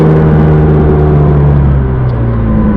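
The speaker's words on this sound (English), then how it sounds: "I love those downshifts." A 2019 McLaren 600LT engine roars loudly and steadily up close while downshifting, a continuous low rumble and whir with shifting engine tones.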